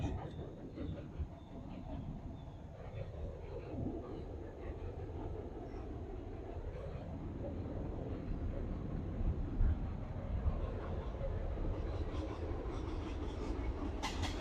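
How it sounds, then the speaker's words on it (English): A short train crosses the Stand By Me Bridge by a lake, making a steady low rumble and rolling noise that holds close and loud throughout, with a faint voice now and then. "It's a short train"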